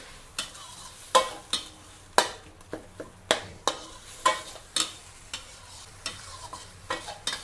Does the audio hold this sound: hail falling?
no